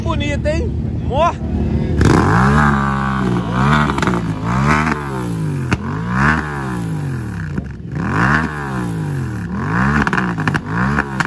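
650 motorcycle at a motorcycle meet in Itatiaiuçu, its engine roaring close by in repeated rising and falling revs, blipped again and again with short pauses, a voice briefly heard at the start.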